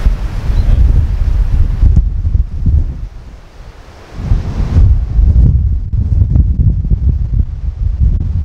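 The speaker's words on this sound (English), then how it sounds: "Just a bit windy," Gusty wind buffets the microphone on the Priestman golf course at Slaley Hall, roaring loudly in waves with a brief lull midway.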